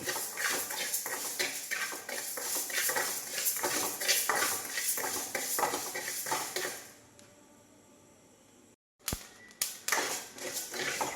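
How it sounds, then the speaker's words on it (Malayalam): Rice roasts dry in a pan for a chicken masala spice mix, with rhythmic scraping and clattering stirs over a crackling sizzle for about seven seconds, then a quieter pause and a few final clinks. "അരി നല്ലതുപോലെ പൊട്ടുന്നുണ്ട്."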